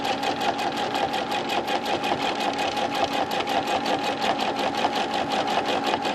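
A sewing machine free motion quilting a feathered border on a quilt runs continuously and loudly up close, its needle hammering in a fast even rhythm with a steady motor whine.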